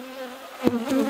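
Honeybees on top of comb in an open hive box give a steady, close insect hum with a brief louder swell of buzzing partway through.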